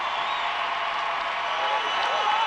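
A gymnastics championship crowd applauds and cheers on its feet after a routine, a dense, loud, continuous roar of clapping and voices.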